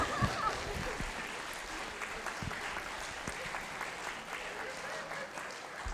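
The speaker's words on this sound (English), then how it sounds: "Applaud, please." An audience at a high school spring concert in Brooklyn applauds steadily, a broad wash of clapping held for several seconds at a moderate distance.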